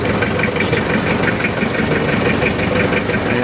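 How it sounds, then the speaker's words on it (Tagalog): A forklift engine idles close by, a steady low mechanical hum with a faint rhythmic ticking pulse, running evenly and fairly quietly with no voices. "Ganda na makina ng forklift nila oh. Hindi maingay guys oh."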